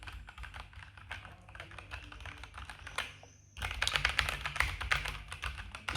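Rapid typing on a Logitech G512 Carbon mechanical keyboard with brown switches, a dense run of clacking keystrokes close up, growing louder and brighter partway through.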